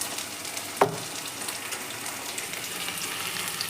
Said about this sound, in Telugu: అల్లం వెల్లుల్లి పేస్ట్ వేసుకొని కాసేపు పచ్చివాసన వెళ్ళేంత వరకు మగ్గనిచ్చుకోవాలి